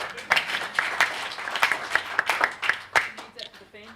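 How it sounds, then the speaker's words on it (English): A small crowd breaks into scattered applause, uneven bursts of clapping rising and falling over a few seconds while people talk and murmur underneath. "Give me a round of applause."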